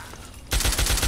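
Automatic gunfire in Fallout 3 kicks in abruptly after a quiet moment, a rapid, loud burst of rhythmic shots at close range.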